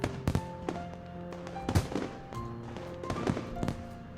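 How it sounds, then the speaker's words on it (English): Fireworks in the visual novel game Katawa Shoujo boom again and again at irregular intervals, each sharp burst leaving a ringing tail over a low background music bed, moderately loud and without talk. "with only the blast of the fireworks to be heard"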